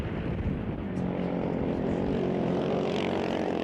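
Racing snowmobiles on a circuit-racing track launch off the starting line, one pulling a wheelie, with a loud sustained engine roar that builds, while a commentator talks over it.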